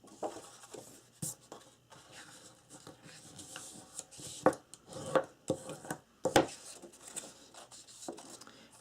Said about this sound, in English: So go ahead and score all these, burnish really well.